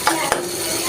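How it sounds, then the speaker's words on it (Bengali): A quick stir of cooking greens in a pot, two short scraping strokes over a steady sizzle, close and fairly loud. "একটু নাড়বো, এভাবে হয়ে যাবে।"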